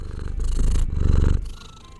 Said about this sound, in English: Cat ASMR now.